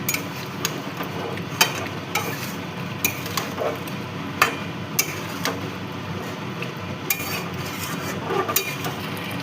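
Spoon stirring chili, cumin, coriander and Kashmiri chili powders into chicken and potato curry in a pan, with repeated sharp scraping clicks over a steady low sizzle, close and fairly loud, no talking.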